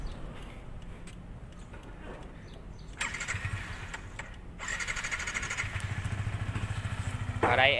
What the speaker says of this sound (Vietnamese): Ở đây bên em vừa đề máy một chiếc XR155 cho anh em nghe tiếng máy nha.